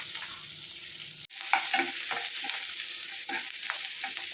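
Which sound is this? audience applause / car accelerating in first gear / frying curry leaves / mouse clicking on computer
frying curry leaves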